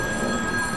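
A telephone bell rings continuously in a short burst, steady and fairly loud, with no voices.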